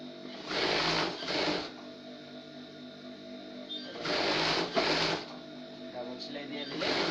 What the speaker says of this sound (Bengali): ডাবল সেলাই দিতে হবে।